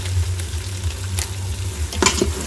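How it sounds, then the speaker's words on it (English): Chicken karahi fries in oil with a packet spice mix while being stirred, a steady close sizzle with a low rumble and a couple of sharp scraping stirs of the spatula. "Just mix it, make sure it's fried well."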